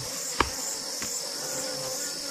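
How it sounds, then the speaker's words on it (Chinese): A swarm of bees nesting in a tree hollow gives off a steady, continuous buzzing drone, close by and unbroken, with a faint tap or two but no talking. "树洞里面发现一窝蜜蜂"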